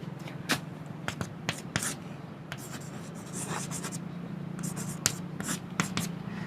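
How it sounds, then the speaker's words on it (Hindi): Pen strokes scratch across paper as logarithm equations are written by hand, a close series of short, irregular scribbling taps and swishes. "देखिए कैसे लिखते हैं"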